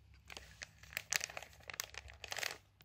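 Plastic packaging of a Halloween makeup pouch crinkles and rustles in short, irregular bursts, quiet and close, as someone pulls at it trying to tear it open.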